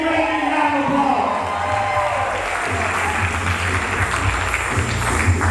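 Applause and crowd noise greet someone as she receives an Adidas gift basket, a steady wash of clapping with some cheering, and voices audible beneath it throughout.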